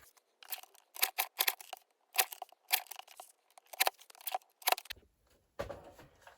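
Scissors snip through paper journaling cards, cutting them in half: a close, crisp run of quick, irregular cuts in short bursts with brief gaps, then a rustle of paper at the end.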